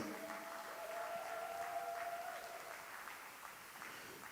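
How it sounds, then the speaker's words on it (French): A church congregation at a Montreal service claps in faint, distant applause, with a soft sustained tone running under it for the first couple of seconds. "Acclamons le Seigneur pour Ruth."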